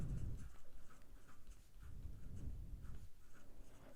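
A pen scratches steadily on paper, close and quiet, while a quadratic equation is worked out by hand, in short rhythmic strokes with brief pauses and no talking.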